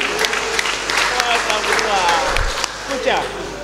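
Audience applause at a gathering honoring a governor in Indonesia, steady dense clapping filling the whole stretch, with a voice speaking over it near the end.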